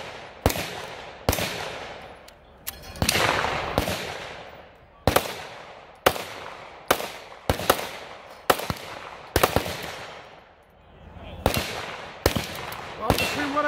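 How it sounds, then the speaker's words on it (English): Repeated 9mm shots from a Taurus GX4XL pistol at a shooting range: about a dozen loud, sharp reports at irregular intervals, some in quick pairs, each with a short ringing decay. "Let me shoot my gun that I brought here because I wanted it to be the same one for the reviews"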